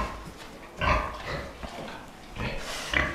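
Pigs in a barn, sows among them, grunt and snort in several short bursts close by, with no talk.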